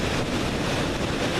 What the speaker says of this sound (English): And here's some more very noisy, rushing water over here on this side.